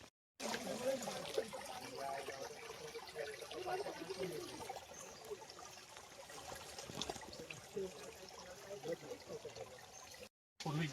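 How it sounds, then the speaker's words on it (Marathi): Water from a natural spring on a hillside trickles and dribbles steadily, a soft continuous flow with faint background sounds, cutting off briefly near the start and end. "हा बघा हा झरा आहे नॅचरल पाणी"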